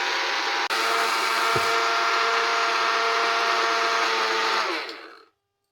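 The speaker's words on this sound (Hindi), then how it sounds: "ब्रेड को मैं मिक्सी में पीस लूंगी इसी तरह तोड़ के" A mixer grinder grinding torn bread into fine crumbs roars steadily at close range for about five seconds, with a brief stutter near the start, then winds down to silence.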